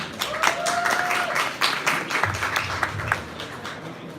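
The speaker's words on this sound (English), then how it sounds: "So please, double big applause for Kathy Kwan." Audience applause and clapping at a speaker series event in Shanghai, a steady dense patter of many hands sustained throughout, fairly loud and close with no speech over it.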